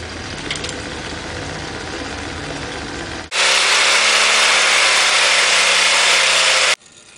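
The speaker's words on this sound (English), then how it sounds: "And it goes around pretty good in the magnetic field of the turbine." A magnetic turbine spins its levitating coupler in the turbine's field. It starts as a quieter mechanical whir, then jumps abruptly to a loud, steady, broadband rushing drone with a low hum that holds several seconds before cutting off sharply.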